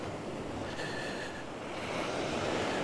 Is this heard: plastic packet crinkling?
no